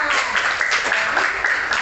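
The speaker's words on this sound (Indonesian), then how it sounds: "silakan tepuk tangan" In an elementary school Christian religion class, pupils clap in a brief, steady burst of applause, with voices mixed in underneath.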